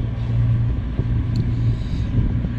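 Low, steady sailboat engine drone rumbles close by alongside wind buffeting, motoring with the mainsail up near La Ciotat, with no voices over it.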